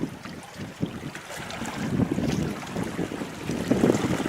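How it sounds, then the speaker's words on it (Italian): Gusting wind buffets a radio-controlled sailing model boat out on the water, a steady broad rush that swells and surges in stronger gusts, with wind noise on the microphone and faint lapping water, no voices. "Il vento è bello. E cominci a risentirne delle raffiche."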